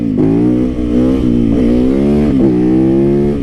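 A Yamaha YZ motorcycle engine revs loud and close, its steady buzzing drone rising in pitch with a few quick throttle blips and dips across the stretch, and no voices over it.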